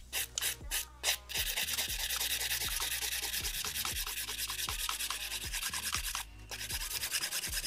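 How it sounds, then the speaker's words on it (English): Steady rhythmic rasping strokes of a 240 grit hand file shaping a pink and white acrylic competition nail, close and continuous with a brief pause near the end, no voices. "And then I'm going to go to the 240 grit file."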